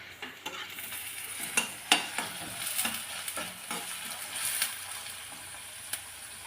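Green chillies drop into hot oil in a pan and sizzle, with a soft steady frying crackle under scattered clinks and scrapes of a spoon stirring against the metal, close and fairly quiet.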